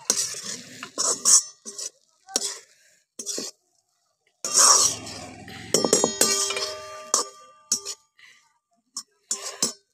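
Chillies being mixed with crushed peanut powder in a pan, heard as intermittent scraping and clinking stirring strokes in short bursts with quiet gaps, a faint sizzle underneath and someone talking in places.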